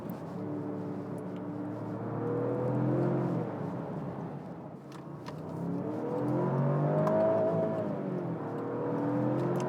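Jaguar F-Pace P400e plug-in hybrid with an 8-speed ZF automatic accelerating hard from inside the cabin, a steady engine drone climbing in pitch through two long pulls with a brief easing between them.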